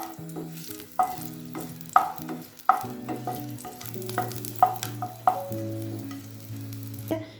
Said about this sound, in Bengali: আমি এই রসুনগুলো খুব ভালোভাবে ফ্রাই করে নেব।